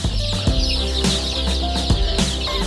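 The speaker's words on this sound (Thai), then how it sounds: "ลูกไก่เราจะแข็งแรงนะครับ" Chicks peep in a high, busy chorus on a farm while chickens cluck now and then underneath, close by and fairly loud.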